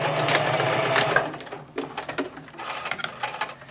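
A sewing machine stitches fabric shut on a stuffed toy's limb, reversing at the start and end, running in a steady dense whir for over a second, then a quieter, choppier burst of stitching.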